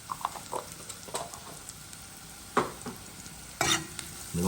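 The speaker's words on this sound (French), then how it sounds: "Mélangez bien." Rougail is stirred in a pan in a home kitchen, with intermittent spoon scrapes and knocks over a low sizzle, and a louder scraping stroke near the end.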